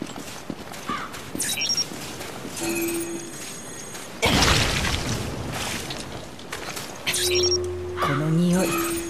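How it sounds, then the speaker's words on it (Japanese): Gas explosion in the Resident Evil Revelations video game, a sudden loud burst with shattering debris amid ongoing game ambience and scattered clanks. "この匂い、腐敗でガスが爆発した。"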